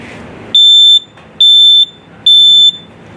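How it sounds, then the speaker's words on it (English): A smoke alarm shrieks in three loud, piercing beeps of equal length, evenly spaced with short pauses between them. "What do you do when you hear the smoke detector going off?"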